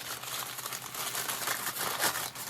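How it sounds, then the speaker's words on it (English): Packaging crinkles steadily as a wrapped item is opened from a knitting advent box, a soft continuous rustle with small bursts, close and fairly quiet, with no talking. "Try to minimize the crinkling."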